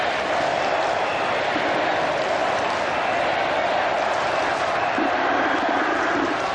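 A full-house stadium crowd of about 40,000 at a cricket semi-final at Eden Park, a steady dense roar and murmur of massed spectators filling the whole stretch, with a brief swell near the end.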